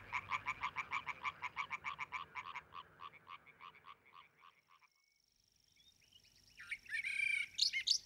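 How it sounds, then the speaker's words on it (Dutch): Male European tree frogs call at night in a raised bog, a rapid series of sharp yapping croaks close by that slows and fades, followed by quiet and then another burst of calling near the end. "is het keffende geluid te horen van de boomkikkermannetjes"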